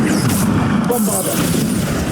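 Bombarda blasting spell from Hogwarts Legacy going off as a loud, sustained booming blast within dense combat noise, with a rumbling low end throughout the short burst.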